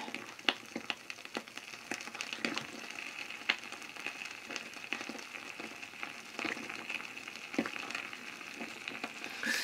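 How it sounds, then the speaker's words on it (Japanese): Food simmering on a portable gas stove turned down low, a soft, close bubbling and crackling with irregular small pops, steady and without talk. "結構なグツグツ言ってくる感じですね"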